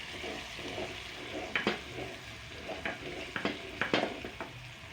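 Grated garlic and green capsicum cook together in a pan, giving a steady soft sizzle with scattered sharper crackles and pops, heard up close with no talking.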